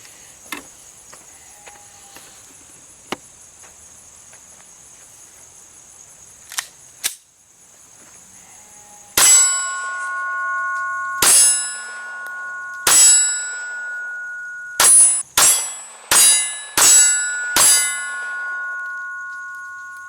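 Glock 19 ball rounds strike an AR500 steel 12 by 20 inch silhouette target, each hit a sharp, ringing metallic ping. Eight hits come at irregular intervals after a quiet stretch with faint distant ticks.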